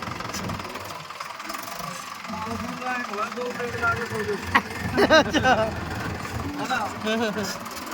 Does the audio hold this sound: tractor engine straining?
yes